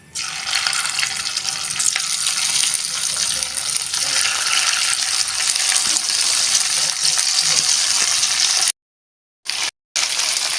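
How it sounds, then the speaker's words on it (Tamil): Chicken pieces frying in hot oil on a gas stove, a steady dense sizzle that fills the clip, close and loud, broken by brief dropouts near the end. "நம்ம இதில் சிக்கனை போட்டு ஃப்ரை பண்ணி எடுத்துக்கலாம்."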